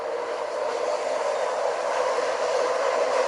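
A rail maintenance car rolls along train tracks beside an abandoned 1980s mini mall, giving a steady, continuous rumble and hiss that holds at an even level throughout.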